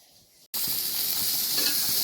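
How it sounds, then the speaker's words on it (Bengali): Tomato, chili and onion frying in a pan, starting with a quiet lead-in and then breaking into a sudden, loud, steady sizzle and hiss that holds close and continuous, with no voices. "এই দেখো ফ্রাই করছি"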